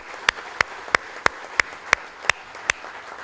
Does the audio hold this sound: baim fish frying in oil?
no